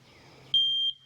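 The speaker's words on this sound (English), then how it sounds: "If I get too close to that bunk, it's going to beep." A sawmill's proximity alarm sounding near the log bunk while milling utility poles into posts, one sharp high electronic beep of about a third of a second over quiet idle hum.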